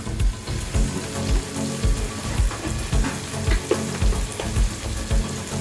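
Chilli powder, Kashmiri chilli powder and curry masala powder sauté in a pan for an egg roast, a steady loud sizzle with rhythmic scraping stirs throughout, and nobody speaks.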